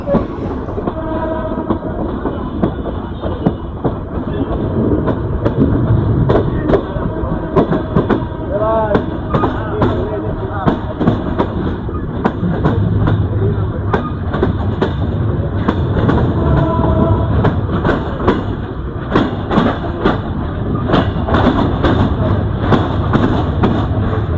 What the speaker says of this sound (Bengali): আমরা এখন লম্বা হুইসেলের মাধ্যমে সান্তাহার রেলওয়ে জংশনে প্রবেশ করতেছি